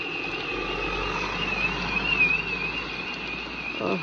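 A community center alarm rings with a steady, warbling electronic tone during heavy rain, which hisses loudly and evenly underneath for the whole stretch.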